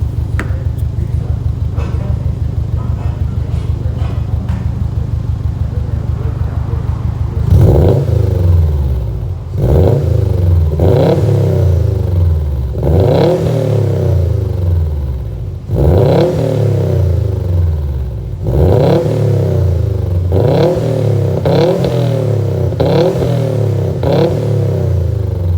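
A Subaru STI with an Invidia turbo-back exhaust idles with a deep burble after a warm run-up, then is blipped through a series of sharp rising revs that fall back between each, loud and close.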